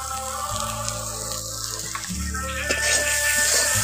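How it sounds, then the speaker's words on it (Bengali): Potatoes sautéing with salt in a pan for a cauliflower and potato singara filling, a steady sizzle under low rhythmic thumps of stirring, with faint background hum. "এখন আলুটাকে একটু ভালো করে কষে নিয়েছি।"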